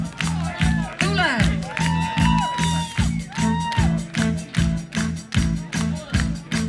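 Crowd at the Laeva Rock 2021 live rock concert clapping in a steady rhythmic beat, with scattered shouts and whoops, loud and continuous, while someone talks over it.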